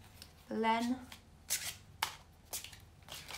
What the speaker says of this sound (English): I'm going to pull a card for you.